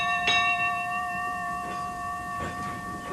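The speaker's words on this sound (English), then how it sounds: "a bell rang out through the air." A bell rings out several times against a sustained bright tonal hum, each stroke clear and fairly close, with no talk.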